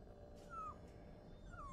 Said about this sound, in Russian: И почему там собака скулит?